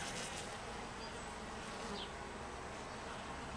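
A dense, steady buzzing drone of Carniolan honeybees flying around a hive entrance, many insects humming together at close range without a break.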